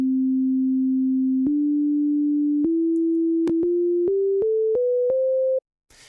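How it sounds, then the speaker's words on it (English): Pure sine tone from a 3x Osc synthesizer plays a series of steady notes stepping upward in pitch, each held then shorter, with faint clicks at each note change, alone and loud. "if you've ever heard a sine wave, for example, like if I was going to pull up, let's just get to 3 oscillator"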